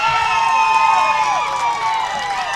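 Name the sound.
excited Hawaii crowd cheering at baseball game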